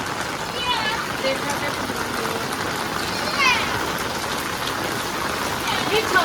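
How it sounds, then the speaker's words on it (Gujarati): Heavy rain pours steadily outdoors on a town road, a dense continuous hiss throughout, with a voice talking faintly over it. "જબરજસ્ત વરસાદ પડી રહ્યો છે"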